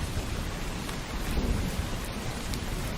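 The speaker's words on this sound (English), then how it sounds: "That's the super bass thunder." Heavy rain falls without a break while deep, bass-heavy thunder rumbles low underneath it, forming a dense, even wash of storm noise with no voices.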